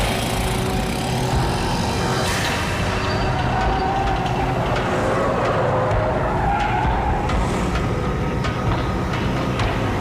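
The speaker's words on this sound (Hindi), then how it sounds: "भाई की गाड़ी आ गई।" A car arrives and drives off, a loud continuous engine roar with tyre noise and a rising, falling pitch, with no talk over it.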